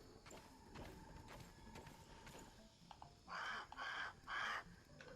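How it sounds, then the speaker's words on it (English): A crow in the survival video game Grounded gives three loud, harsh caws near the end, following a stretch of rhythmic clip-clop-like thuds and faint ambient game sounds. "That would be our friend, the crow."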